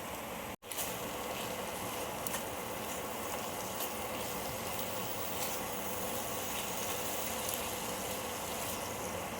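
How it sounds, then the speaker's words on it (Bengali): Spice masala of salt, coriander powder, turmeric and a little sugar fries in a pan, giving a steady, even sizzling hiss that is briefly interrupted near the start, then continues unbroken. "এইভাবে একটুখানি আমি কষিয়ে নেব মশলাটা"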